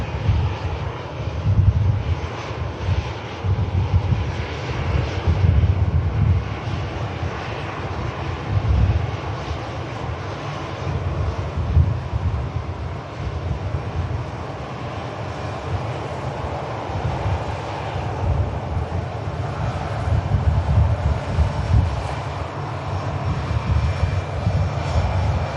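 EasyJet airliner engines at Manchester Airport rumble in a sustained low roar that swells and eases over nearly half a minute, moderately loud and steady, without any talk.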